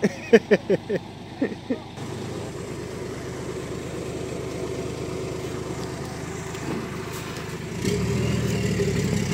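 A truck engine runs steadily through the scene while a loaded truck is filled with sacks of harvested rice at a farm. A few sharp knocks come at the start, and the engine grows louder near the end.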